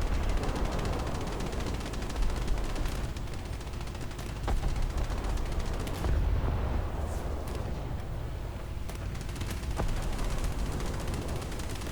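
Battleship secondary guns firing in the naval combat game War Thunder, dense continuous gunfire with rapid repeated shots and booms under a loud rumbling battle ambience, no talking.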